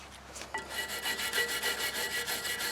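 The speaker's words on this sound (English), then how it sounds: "I'm just going to clean them where they are with the wire brush and then some brake clean and a rag." Wire brush scrubbing the rear brake caliper slides of a Nissan Titan, a rapid rhythmic rasping of back-and-forth strokes, about five per second, close and steady with no talk.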